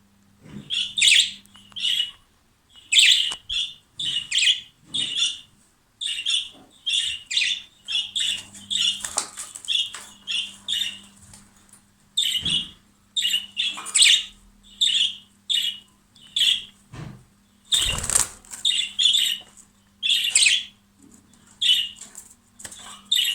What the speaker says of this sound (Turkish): Kuşumu ötmesi için kuş sesi açacağım.